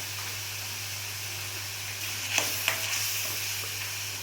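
Tomato paste with cumin, coriander, red chilli and turmeric sautéing in oil, a quiet continuous sizzle with a couple of spoon clinks and stirring scrapes midway.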